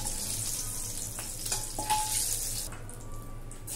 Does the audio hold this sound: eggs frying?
yes